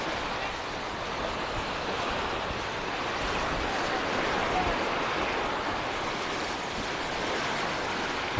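Waves washing onto Kumköy beach at sunset, a continuous broad surf hiss with gentle swells and some wind buffeting, heard close and steady throughout.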